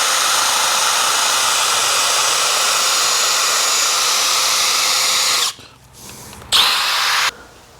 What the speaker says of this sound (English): I'm gonna try and go around with Old Faithful here and just try to deburr those edges